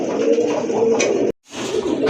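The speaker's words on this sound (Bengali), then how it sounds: "মাশাআল্লাহ দেখেন এক জোড়া রেসার কবুতর" A pair of large racer pigeons coo in soft, low, rolling calls close by, continuing steadily with one brief gap of silence before the cooing resumes.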